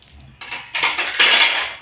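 Ceramic plates and cutlery clattering in a home kitchen during an Ayudha Puja celebration, three or four bright bursts of clinking that build into a dense, loud rattle.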